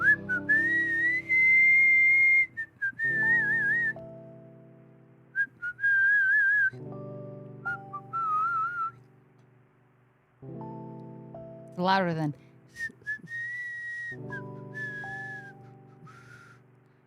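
A person whistles short melodic phrases close to the microphone, with a low sustained tone underneath and a brief spoken word between the whistles.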